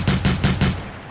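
Rapid automatic gunfire from a gun in the video game Cyber Hunter, four loud bursts in quick regular rhythm that then trail off into a fading echo.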